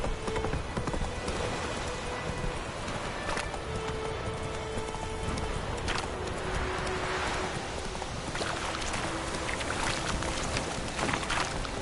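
Roach the horse clip-clops at a steady trot in The Witcher 3, with rhythmic hoofbeats close up over a constant bed of ambient game noise and wind.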